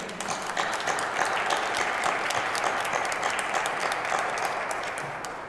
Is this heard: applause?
yes